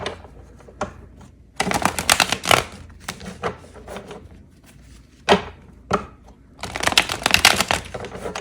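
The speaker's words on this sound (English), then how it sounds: "This is not the easiest deck to shuffle." A stiff tarot deck gets shuffled by hand, bursts of crisp riffling and card slaps separated by quieter pauses, close up and loud in short clusters.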